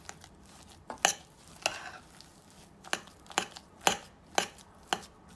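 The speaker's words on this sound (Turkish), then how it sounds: "Güzelce karıştırıyorum." Spoon scrapes and thumps in a bowl as hot mashed potato filling is mixed with butter, chili flakes, thyme, mint and black pepper, several soft, uneven strokes heard close and fairly quiet.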